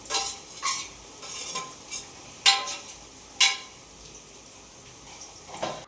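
Onion and garlic fry in oil in a pan, with a low sizzle under sharp clinks and scrapes of a spoon stirring against the metal at irregular intervals.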